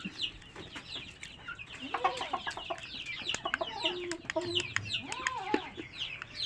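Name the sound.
chickens clucking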